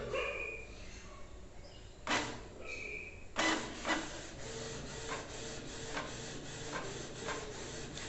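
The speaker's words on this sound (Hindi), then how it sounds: "आप देखिए कलर का जो पेपर है वो भी खींचना शुरू हो चुका है" A Canon Pixma MG3070s all-in-one printer pulls in paper and prints a color page, with a sharp mechanical clunk followed by repeated rhythmic feed-and-print strokes and whirring at moderate, close range.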